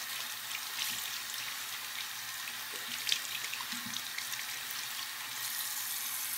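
A faucet runs steadily while hands are rinsed under it, a continuous broadband splashing hiss with faint irregular knocks and drips, close by.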